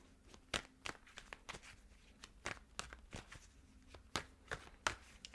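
Tarot cards being shuffled close by and quietly, a run of sharp riffling snaps and soft card slaps at an irregular pace, with no voices.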